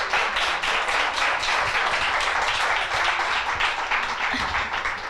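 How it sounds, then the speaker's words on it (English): An audience applauds panelists at a panel event with dense, steady clapping that holds fairly loud and even from start to finish. "Can we give our amazing panelists a round of applause?"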